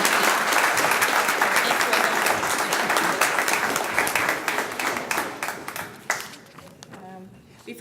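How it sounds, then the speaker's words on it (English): Audience at a community grant recipient awards ceremony breaks into sustained, dense applause that stays loud for several seconds, then thins to scattered claps and tapers off toward the end. "Now you can clap."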